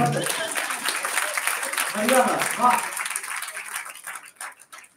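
Audience clapping at a Hindi poetry recital, a moderate round of applause mixed with murmuring voices that swells midway and then tapers off, with a speaker's voice returning at the end.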